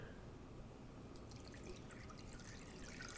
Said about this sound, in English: I'm gonna pour some water over it.